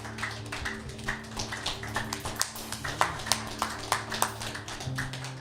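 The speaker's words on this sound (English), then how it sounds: "Why don't we just give another round of applause for the Holy Spirit?" Light, scattered clapping from a church congregation at an evening worship service, sparse individual claps over a low steady hum, fairly quiet and uneven.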